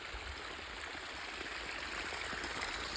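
Irrigation water running through a sugarcane field from 32 mm valve outlets, a soft, steady trickling flow that stays even throughout, heard alone without voices.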